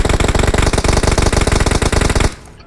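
A rapid, loud burst of clattering bangs from a vehicle tire bursting in a video game, repeating in a steady fast rhythm for over two seconds before cutting off abruptly into quiet.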